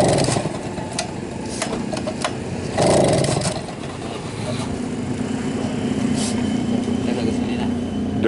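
A starved engine cranks and sputters without catching, uneven bursts of turning over and rough firing, with people talking over it nearby.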